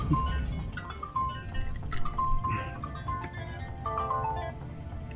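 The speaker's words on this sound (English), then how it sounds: "I gotta get this phone call." A phone ringtone chirps in a small bush plane in the northeast USA just before landing, its short repeating tones sitting over steady low engine and cabin drone.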